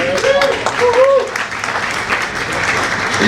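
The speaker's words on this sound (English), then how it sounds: "It's not often good counsel gets applause in this room." A crowd applauds in a hall at a high school Hall of Fame ceremony, loud sustained clapping filling the room, with a voice speaking briefly over the opening.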